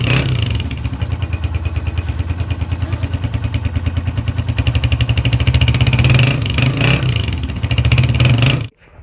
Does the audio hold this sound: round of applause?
no